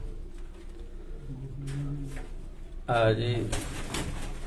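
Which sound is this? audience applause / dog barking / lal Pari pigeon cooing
lal Pari pigeon cooing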